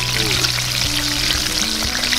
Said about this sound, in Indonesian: Jadi langsung kita masukkan, nanti kita goreng.